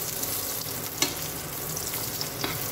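Cashews and raisins sizzle as they roast in a pan, with a steady hiss and a couple of stirring clinks, close and alone without talk.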